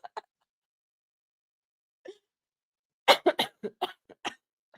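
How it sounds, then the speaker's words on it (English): A few sharp coughs from a person: a couple of quick bursts, a single one after a pause, then a rapid cluster of several close, loud coughs. "Y'all gonna make me cough this out."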